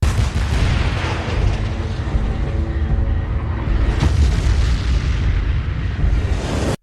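Gunfire and explosions from the JSDC forces firing to lure the kaiju in the Kaiju No. 8 anime, a dense, loud barrage of booms and blasts that cuts off abruptly at the end.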